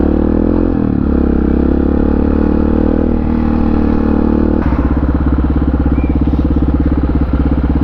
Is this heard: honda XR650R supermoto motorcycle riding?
yes